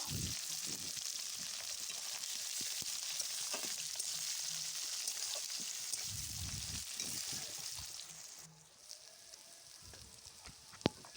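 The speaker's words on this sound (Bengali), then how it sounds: "পেঁয়াজটা একটুখানি ভেজে নেব।" Onions and green chillies fry in oil with bay leaf and five-spice in a wok for khichdi, a steady close sizzle with scattered clinks and stirring knocks, easing to a quieter crackle near the end.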